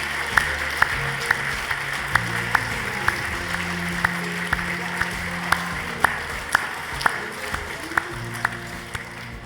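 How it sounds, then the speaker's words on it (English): Applause for Graham Hill at an awards ceremony in a London venue, a steady wash of clapping from the audience with sharp accented claps popping out at a regular pace over a low murmur. "Round of applause for Graham Hill, please"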